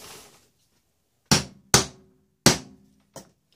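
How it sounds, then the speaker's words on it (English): Four sharp hammer taps on leather while making a knife sheath, spaced irregularly and fairly close, each a crisp isolated knock in an otherwise quiet room. "My little hammer over here."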